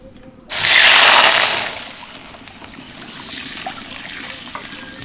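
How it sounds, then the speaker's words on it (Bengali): Water is poured into a cooking pot in a village kitchen while making a broken-rice dish. It starts as a sudden loud rush lasting about a second, then fades to a quieter, lingering trickle. "আমি এখানে পানি দিয়ে দিব"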